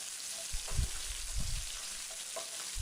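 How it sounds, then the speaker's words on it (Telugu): Green chilli pieces and cumin sizzle in a frying pan, with a few soft scraping stirs against a steady, faint hiss of oil. "పచ్చిమిరపకాయ ముక్కలు, జీలకర్ర వేసుకుని బాగా కలుపుకోవాలి."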